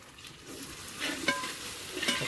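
Two tomatoes frying and being stirred in a pan for a Kerala-style chicken curry, a soft steady sizzle with scraping stirs and a few brighter clicks of a utensil.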